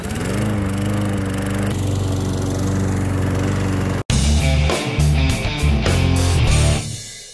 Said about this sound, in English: We're going to do the drill start.